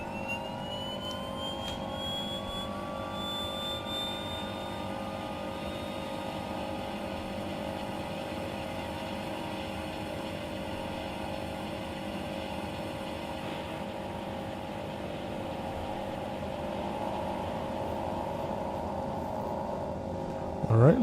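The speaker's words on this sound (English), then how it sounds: "let's do the ignition and start for the second engine" The second turboprop engine of an Embraer 110 in Microsoft Flight Simulator spools up as a steady, loud whine and drone, with a pitch that rises early on and then holds constant throughout, without any talking over it.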